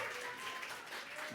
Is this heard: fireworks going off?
no